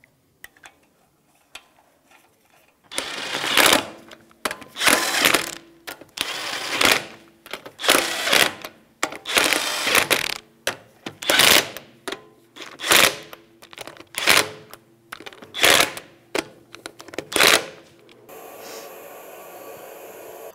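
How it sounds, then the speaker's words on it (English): Lug nuts being spun on and snugged with a 19 mm socket on a Jeep Compass front wheel, a run of loud, close bursts of power-tool whirring in a steady stop-start rhythm after a quiet opening. "Start all the lug nuts by hand. That's the 19 millimeter socket. And we will just snug them in a star pattern"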